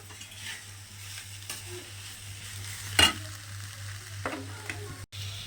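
Tomatoes soften in a pan while cooking a village-style mutton curry, a low steady sizzle with a low hum underneath and a few isolated scrapes and clinks of a utensil.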